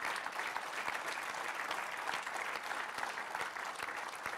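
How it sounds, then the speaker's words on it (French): An audience at a general assembly applauds a speaker with a multi-medal, many-times national champion record, giving steady, sustained clapping at an even level from start to finish. "Bravo, on peut l'applaudir quand même."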